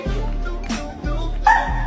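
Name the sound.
dog barking in reaction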